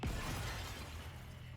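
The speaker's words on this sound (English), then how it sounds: "Sugar's motorcycle, Typhoon, crashes through the cafe front window." In the video game Goddess of Victory, a motorcycle named Typhoon smashes through a cafe's front window: a loud burst of shattering glass with a low impact, then crashing debris that fills the rest of the moment.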